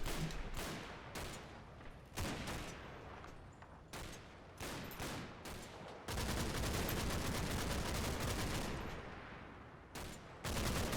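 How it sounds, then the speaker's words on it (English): Rapid bursts of rifle and machine-gun fire in the WWII wargame Combat Mission: Battle for Normandy, repeated cracking volleys with a long sustained barrage near the end, moderately distant. "You're taking fire."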